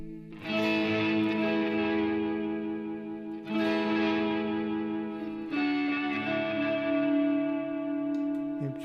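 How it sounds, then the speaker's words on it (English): Guitar played through PedalFire effects pedals, with chorus, distortion and echo shaping sustained chords that ring out in three strums, each left to decay, with no voices. "We can turn on some of the effects."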